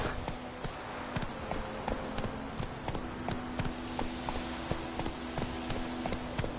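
Roach, a horse in The Witcher 3, gallops in steady rhythmic clip-clop hoofbeats that repeat evenly throughout, moderately loud over a constant background game hum, with no talking.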